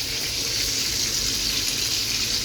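Broth for pork rib nilaga pours into a cooking pot in a steady, splashing gush that stays constant and close throughout, with no voices.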